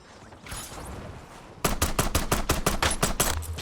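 Automatic gunfire in the video game Warzone, a rapid burst of about a dozen sharp shots breaking out after a quieter opening and continuing to the end, loud and close.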